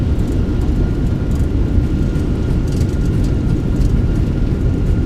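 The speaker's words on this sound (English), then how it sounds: "Reversers are out." Thrust reversers on a Fenix A319 airliner in a flight simulator give a steady, heavy, low roar during the landing rollout. It is loud and continuous, with no voices.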